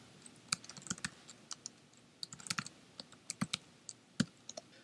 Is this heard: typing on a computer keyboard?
yes